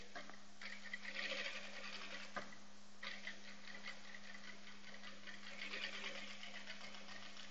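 A sewing machine stitches a seam along the edge of its presser foot, a quiet, steady mechanical whirr with a constant low hum, running continuously with small surges.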